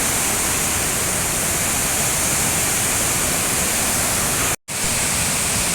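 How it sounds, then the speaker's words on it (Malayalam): Urulikkund waterfall in Kannur roars as a dense, constant wash of falling water heard up close and loud, broken only by a brief cut near the end. "ഉരുളിക്കുട്ടിലെ ഏറ്റവും വലിയ വെള്ളച്ചാട്ടത്തിൻ്റെ തൊട്ടടുത്ത് നമ്മൾ എത്തിയിരിക്കുകയാണ്"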